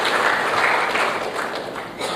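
Audience applause at the Air Cargo India 2016 conference, dense steady clapping from a crowd in a hall, loud and continuous for a couple of seconds.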